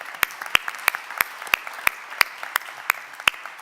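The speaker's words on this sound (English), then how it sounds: "Let's have a round of applause first." A few audience members at an e-health conference clap, producing sparse, distinct claps in an irregular rhythm rather than a full ovation, fairly close and without talk.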